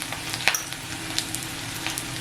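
Onion and grated coconut frying in a pan for chicken masala, a steady close sizzle with occasional crackles and pops, no voices.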